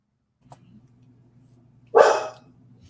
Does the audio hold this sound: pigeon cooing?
no